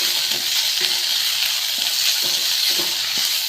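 Onions and green chili sauté with salt in a hot pan, giving a steady bright sizzle with soft intermittent stirring scrapes throughout, close and fairly loud, no talking.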